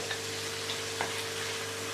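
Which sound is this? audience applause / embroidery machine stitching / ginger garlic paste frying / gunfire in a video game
ginger garlic paste frying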